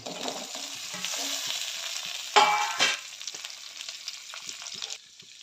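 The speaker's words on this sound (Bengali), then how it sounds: "তারপর আলুটা হালকা ভেজে নেব।" Potatoes lightly frying in a pan with five or six green chillies, a steady close sizzle with stirring scrapes and a brief louder burst of crackling midway, no voices.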